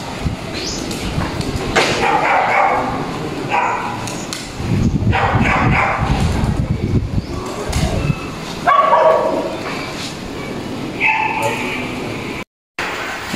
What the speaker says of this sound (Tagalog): tingnan nyo guys, oh, daming aso